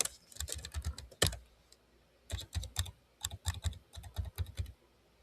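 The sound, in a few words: typing a name on a computer keyboard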